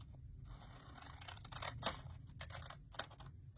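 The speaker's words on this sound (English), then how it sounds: "I'll cut this one right to the line" Scissors cutting through vintage Paris ephemera paper for an envelope, a series of close, quiet crisp snips and rustles in a hushed room, with no voices.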